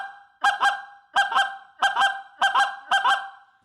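A goose call blown as two separate broken-off notes, repeated in five evenly spaced pairs of sharp, loud honks with short pauses between, alone and close.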